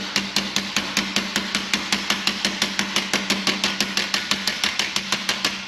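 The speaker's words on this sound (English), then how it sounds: "with a nice little hammer, we can localize the bending" Rapid, evenly spaced hammer blows ring sharply on a sheet metal repair panel for a Ford Transit van, dozens of metallic strikes in a steady rhythm, close and loud.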